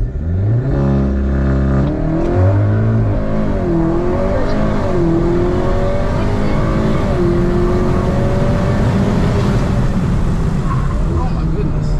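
A tuned 2022 Audi S3 accelerates hard through a 0 to 60 run, its engine climbing loudly through rising gear sweeps, with excited voices talking over the roar.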